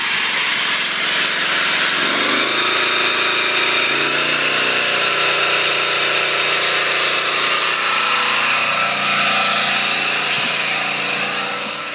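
A homemade generator runs loud and steady with a space heater plugged in as its load, giving a continuous engine drone with a shifting mechanical whine that dips briefly as it bogs under the load.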